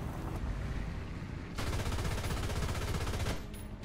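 Heavy, continuous tank gunfire in War Thunder, a dense rumbling barrage that swells louder midway, with no speech.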